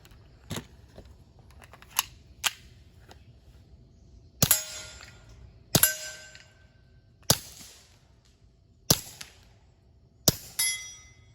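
Suppressed Keltec P17 pistol with a Rugged Mustang suppressor firing subsonic CCI 22 LR hollow points: about seven sharp, muffled cracks spaced irregularly over several seconds, each with a brief metallic tail, near and fairly quiet.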